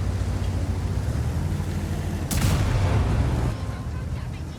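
A World of Tanks tank fires an explosive shell: a single loud boom and blast that rings out over steady engine rumble partway through.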